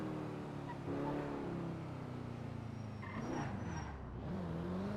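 Engine of a car driven in GTA V on the NoPixel roleplay server, a steady mid-pitched drone that rises and shifts with revs, with a brief skid-like scrape near the end and no talk.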